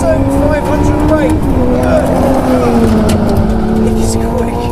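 A Jaguar C-X75's 1.6-litre turbocharged and supercharged engine revs on a circuit, its loud droning note rising and falling through gear changes while someone talks over it.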